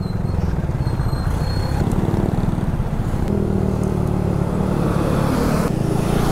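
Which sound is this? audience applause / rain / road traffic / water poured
road traffic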